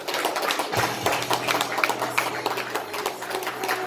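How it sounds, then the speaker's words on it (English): Small audience clapping after a pro wrestling Q&A session, a brisk patter of individual hand claps sounding close and fairly sparse, continuing evenly without talk. "Let's give Silas a big round of applause for this wonderful Q&A"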